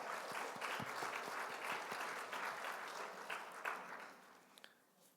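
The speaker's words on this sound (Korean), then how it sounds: "큰 박수로 환영해 주시기 바랍니다" Church congregation at a Sunday worship service applauding a welcomed guest, sustained clapping from many hands that fades out near the end.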